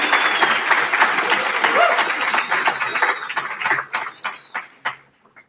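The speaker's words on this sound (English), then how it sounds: "Alec, give Alec a round of applause." Commencement audience applauds a fellow intern, the clapping fairly loud and dense at first, then thinning into scattered individual claps as it dies away.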